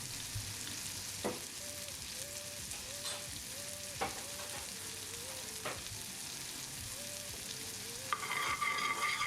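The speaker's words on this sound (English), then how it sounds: "After we get those out, we're going to add in some onions. Now this is one whole small onion." Onion frying with lamb and butter in a hot pan, a steady broadband sizzle throughout with occasional sharp clicks and light stirring scrapes near the end, no talking.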